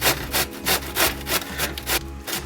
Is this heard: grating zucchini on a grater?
yes